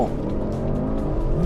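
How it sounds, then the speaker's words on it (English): A Porsche Cayenne Turbo GT launches hard from a standstill in Sport Plus with launch control, its engine note climbing steadily and loudly through the rev range for a second and a half. "Sport Plus, drive, brake, throttle, performance start, send"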